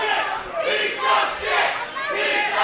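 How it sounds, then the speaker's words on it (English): Wrestling crowd at a UCW-ZERO heavyweight championship match jeering and shouting at Bobby Jackson as he attacks his opponent; loud massed yelling that swells and dips in waves, filling the hall. "the crowd telling Jackson what they think about him"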